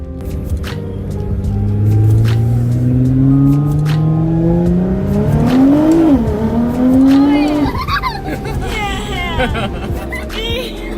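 A Nissan GT-R accelerates hard, its engine note climbing through the gears with a rising howl and sharp shifts, loud and close, while people talk and react excitedly.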